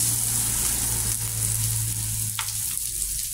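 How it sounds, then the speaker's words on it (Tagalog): Garlic and onion sauté in a pan ahead of pork chops, a constant dense close sizzle with a brief utensil scrape near the end. "Lalabasin lang natin kanyang mga aroma. Mga aroma ng ating bawang at sibuyas."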